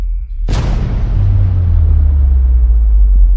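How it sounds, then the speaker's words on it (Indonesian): A sudden loud boom that gives way to a deep, sustained rumbling, which continues steadily without fading. "tiba-tiba terdengar suara dentuman yang diikuti suara gemuruh dari luar"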